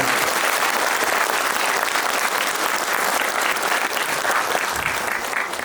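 An audience at a talk in Naryn claps together in a sustained, dense burst of applause, loud and close, continuing steadily to the end.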